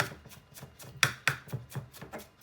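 A knife finely chopping onion into a mince on a board: quick, close rhythmic taps at an uneven pace, with two sharper, louder strikes partway through and no talking.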